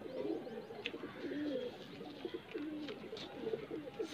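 White-eyed Kaldum pigeons coo in repeated low, rolling phrases near at hand, steady throughout with a few faint chirps and no speech.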